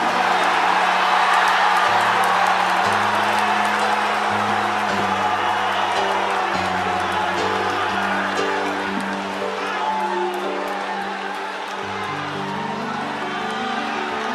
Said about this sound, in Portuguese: dê um grito de glória